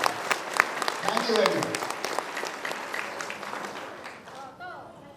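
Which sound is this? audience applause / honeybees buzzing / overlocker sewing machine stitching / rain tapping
audience applause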